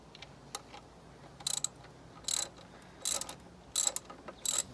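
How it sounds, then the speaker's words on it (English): A ratchet snugs up exhaust manifold bolts on a Mini Cooper S R56, quiet bursts of rapid clicking repeated about five times with short pauses between them, close and alone. "I'm just going to kind of snug them up with this ratchet."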